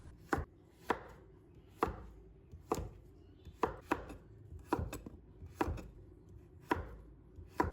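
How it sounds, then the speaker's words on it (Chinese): A knife chops pumpkin into small even pieces on a cutting board, with about a dozen sharp, evenly spaced knocks, close and clear against near silence. "然后切成小块，也不要切得太小，一定要切均匀一些，那样比较容易熟。"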